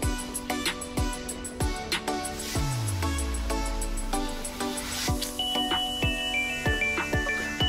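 Bell-like chiming tones ring out in a repeating rhythm within the instrumental music of the Friday Night Funkin' rhythm game. A descending sweep falls away partway through, and a higher bell melody enters near the end.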